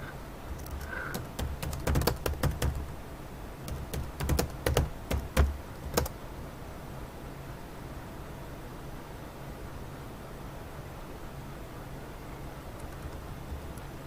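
Keys clatter in quick, irregular bursts on a laptop keyboard for several seconds, then stop, leaving a steady background hiss.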